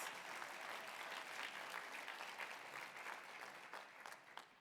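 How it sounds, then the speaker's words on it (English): Steady audience applause at a humanitarian award celebration, a dense even patter of many hands clapping that carries on unbroken and tapers slightly toward the end, fairly distant and soft. "that does deserve a round of applause"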